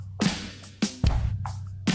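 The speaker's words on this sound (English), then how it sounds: "Sounds like dogs barking at some hits." Sharp percussive hits with a yelping, bark-like snap, several in quick succession over a steady low groove, loud and close.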